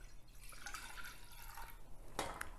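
Juice pours quietly into a pot for homemade gummy bears, a soft, steady liquid trickle with a few brighter splashes near the end.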